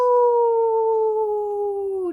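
A voice imitates a wolf howl in one long, steady, sustained tone that sags gently in pitch toward the end, loud and close, with no other sound around it.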